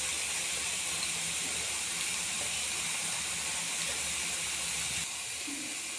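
Cauliflower pieces frying in hot oil give a steady, even hiss and sizzle that holds at the same level throughout, close and continuous, with no voices.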